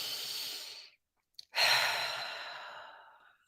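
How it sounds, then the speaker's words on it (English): A slow, deep breath drawn in and let out close to the listener during a guided relaxation session, a long airy inhale, a short pause, then a longer sighing exhale and the start of another breath. "Take a nice deep breath."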